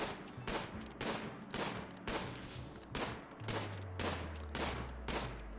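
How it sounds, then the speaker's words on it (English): Faint gunfire from colonists shooting in the colony-sim game Rimworld, arriving as evenly spaced rattling bursts about once a second, with a low droning tone joining partway through. "she is getting better at shooting"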